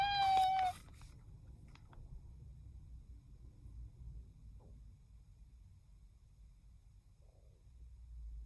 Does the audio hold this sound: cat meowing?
yes